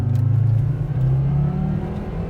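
A 2004 Volvo XC70 launches hard from a stop sign, its engine revving loudly and climbing steadily in pitch under load, close and continuous throughout with no talking.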